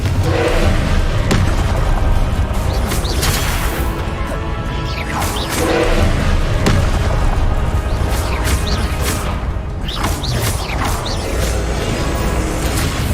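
Explosive blasts from the Confringo fire spell in the Hogwarts Legacy video game, loud repeated booms and crashes with whooshes and creaking over a dense, continuous din of combat.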